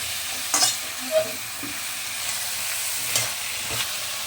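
Long beans and pointed gourd frying in a pan, giving a steady close sizzle with a few brief clattering knocks of vegetables dropping in and being moved about, no voices.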